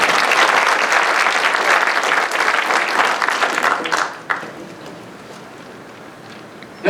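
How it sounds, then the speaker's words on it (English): An audience at a Haitian cultural community celebration gives loud, dense applause as an assemblywoman arrives, sustained for about four seconds before dying down into quieter room noise. "let's give her a round of applause"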